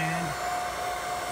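A hair dryer runs from a 1000 W pure sine wave power inverter with a continuous loud whoosh of air and a fixed electrical whine. A low tone drops away early on and the sound holds steady after that.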